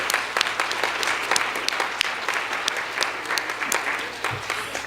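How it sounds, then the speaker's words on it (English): A conference audience applauds a planning committee, steady clapping with sharp individual claps standing out throughout the five seconds. "Let's give that committee a round of applause."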